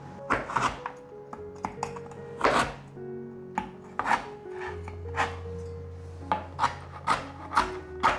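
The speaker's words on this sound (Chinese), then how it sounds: "准备120克的冬瓜条，把冬瓜条切碎。" A kitchen knife chops candied winter melon strips on a cutting board, a series of close, irregular thunks and scraping rubs coming in quick clusters with no talking.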